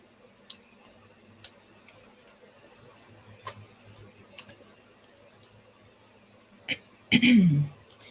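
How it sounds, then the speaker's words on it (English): After several quiet ticks and clicks, a person clears their throat once, a short, loud rasp near the end. "Clear my throat."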